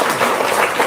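An audience at a spoken talk breaks into dense, steady applause that stays loud throughout the short stretch.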